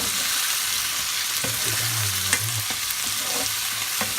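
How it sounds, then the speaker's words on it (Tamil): Crab pieces with turmeric stirred in a hot pan, a constant close sizzle punctuated by a few scraping strokes and knocks of the spoon, no voices. "நல்லா கிண்டி விட்டுட்டு"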